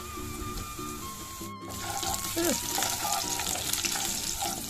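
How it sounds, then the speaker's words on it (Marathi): Curry leaves drop into hot oil with garlic for a dal tadka, flaring into a louder crackling sizzle, while stirring scrapes and taps continue close by. "करीपत्ता टाकून चांगला आपण त्याला हलवतोय"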